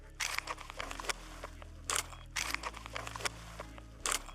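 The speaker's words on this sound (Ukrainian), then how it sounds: "Великим пальцем лівої руки ми знімаємо з запобіжника, а мізинцем піднімаємо ручку затвора" Sharp metallic clicks and a sliding clack of an AK-74 rifle's safety lever and bolt handle, several crisp mechanical snaps spaced unevenly, close and without speech.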